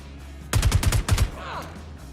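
A quick burst of about eight gunshots from enemies in the space game Star Citizen, close and sharp in rapid succession, followed by a fainter trailing sound.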